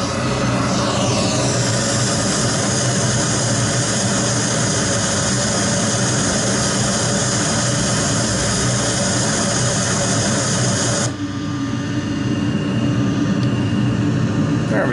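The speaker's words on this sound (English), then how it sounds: "So I'm going to use a little reverse thrust to get this thing going." Boeing 737 jet engines running on reverse thrust in a home-built flight simulator, a loud continuous roar with a steady whine that holds for the whole stretch and drops slightly near the end.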